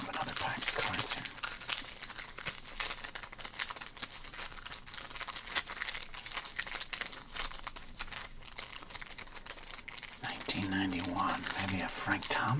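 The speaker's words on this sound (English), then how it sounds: "let's open up another pack of cards here" A foil pack of 1991 baseball cards with gum inside is crinkled and torn open up close, a steady rustle of wrapper and card handling with a low voice murmuring underneath.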